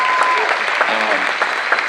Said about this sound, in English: y'all should clap for Emily where she is